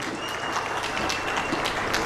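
An audience at a farmers' event in Mandya applauds, a dense steady burst of many hands clapping that fills the whole moment without a break.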